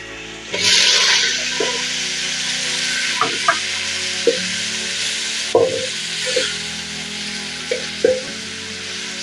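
Chopped onions for sukuma wiki hit hot oil in a pan and sizzle continuously at close range, with a few clinks and scrapes of stirring over the steady hiss and no voices.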